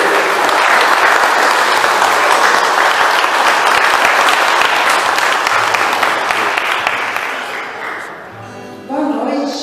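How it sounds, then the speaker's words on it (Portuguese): A church congregation at an evening service applauds, loud continuous clapping that gradually fades, followed by a voice beginning to speak near the end. "Vamos aplaudir o Senhor."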